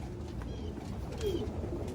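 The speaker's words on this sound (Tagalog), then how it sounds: "may dumating na ibon" A pigeon arrives at a breeder's loft, cooing softly and steadily over low background noise.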